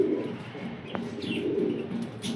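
Sialkoti pigeons kept as high-flying show birds coo softly and continuously, with a brief chirp and a faint flutter mixed in, nearby and without talk.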